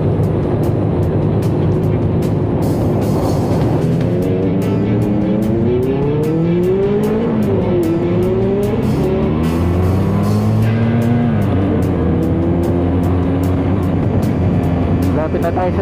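A 2021 Benelli TRK 502X adventure motorcycle on a test ride, its engine loud and close, revving up and down in repeated sweeping rises and drops in pitch over a constant wind rush.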